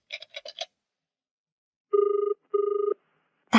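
A telephone rings twice with a steady electronic trill, each ring about half a second long, preceded by quick keypad beeps from dialing; clear and close in an otherwise quiet room.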